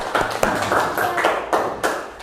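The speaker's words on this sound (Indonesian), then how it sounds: "Baik, tepuk tangan dulu." A handful of sharp hand claps at uneven intervals, fairly close, in a classroom lesson, over a faint murmur of room noise.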